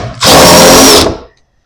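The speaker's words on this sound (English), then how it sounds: "undo these two bolts from inside the tailgate" A power tool whirs loudly and close for about a second while undoing bolts inside a truck tailgate, starting abruptly and winding down quickly to silence.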